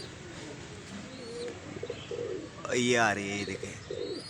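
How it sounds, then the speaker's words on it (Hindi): Pigeons coo and flutter over a rooftop loft amid steady outdoor background noise, with a clearer call near the middle while someone speaks briefly. "ये देखें, ये कबूतर जा रहे हैं सब भाइयों के।"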